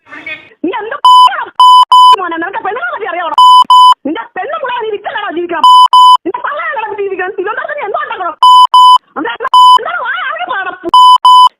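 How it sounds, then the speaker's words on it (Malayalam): Loud censor beeps repeatedly cut into a played recording of a voice talking. Short flat tones come in quick pairs and bursts at irregular intervals. "ഞാൻ കുറച്ച് ബീപ്പ് ഇട്ട് അതിനെ ചെറിയൊരു ഭാഗം കേൾപ്പിച്ചു തരാം"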